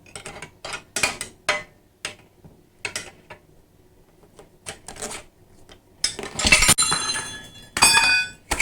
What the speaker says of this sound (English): We'll run our spoon through and see if we can slip this one off.